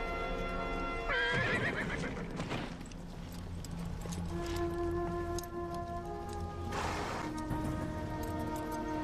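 A horse gives two loud, shrill whinnies a few seconds apart, with hoofbeats and the movement of the horse in between, heard close and clear.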